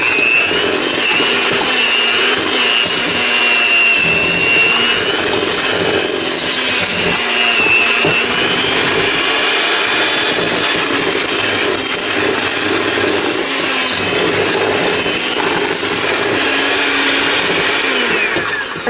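An electric mixer creaming baking ingredients in a bowl runs loud and steady, a continuous close whirring drone that stays strong throughout with no talk over it.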